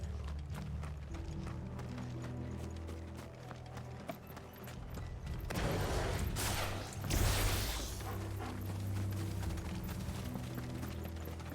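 Horse hooves clip-clop in Final Fantasy XVI, a steady rhythm of hoofbeats over a low game ambience, with a louder rushing burst midway.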